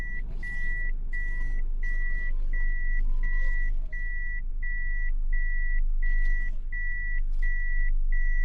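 A vehicle backs into a parking space in a car park, its reversing alarm sounding a steady, regular series of loud beeps over a constant low engine rumble, with no voices.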